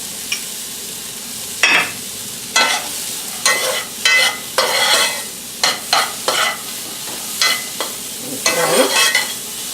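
Chopped celery sautés in a hot pan for lobster bisque, a steady sizzle broken by repeated loud scraping strokes of a spoon stirring at an uneven pace, close up and with no talking.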